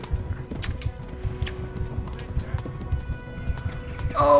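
Horse hooves in the Kingdom Come: Deliverance video game, a steady, fairly loud run of thudding hoofbeats over a low rumble with bird calls, ending in a brief surge of noise.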